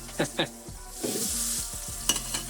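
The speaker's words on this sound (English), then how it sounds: "we're going to be searing that about a minute on each side" A sous vide ribeye steak, cooked at 129 degrees, sears in a pan with a steady close sizzle, broken by a few louder spits and pops.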